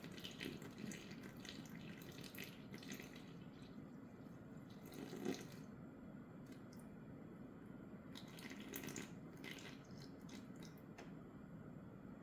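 Warmed water, 160 grams, poured steadily into flour for a 90% hydration ciabatta dough, a soft, continuous trickle and splash running for several seconds at low volume.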